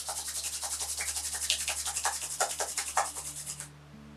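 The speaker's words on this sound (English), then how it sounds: "feel free to rub your hands" Hands rubbing together in a quiet yoga class, a steady run of soft, rhythmic brushing swishes repeated for several seconds, close and alone, then stopping.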